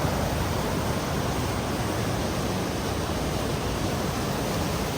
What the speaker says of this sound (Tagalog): Ganda pakinggan yung agos na tubig.